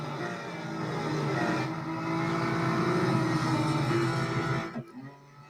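Racing car engines roar steadily in Real Racing 3 during a multi-series competition, a sustained loud drone with shifting pitch that cuts off abruptly near the end.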